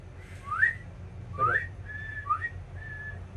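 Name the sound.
person imitating a whistle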